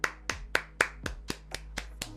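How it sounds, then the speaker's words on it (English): Hands clap in a steady, even rhythm, about nine sharp claps in two seconds. They are close and distinct, with no talk. "Clap it up."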